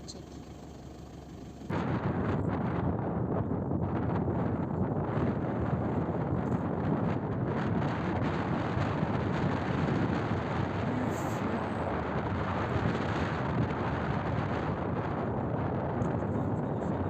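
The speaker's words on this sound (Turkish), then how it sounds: "güzel bir rüzgar var." Steady, loud wind buffeting the microphone on a cloudy mountainside, a continuous broadband roar that starts abruptly and persists throughout with no clear speech.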